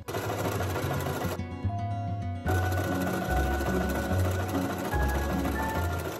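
A sewing machine runs a zigzag stitch along the edges of layered cotton fabric scraps, with a steady close mechanical whir that stops briefly and then resumes.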